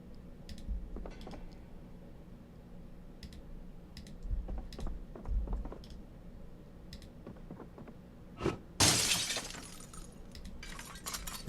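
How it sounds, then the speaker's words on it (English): Window glass breaks in the Project Zomboid video game, a sudden bright shattering crash with a tinkling tail, preceded by scattered soft clicks and thumps and followed by a second short burst. "Remove the glass."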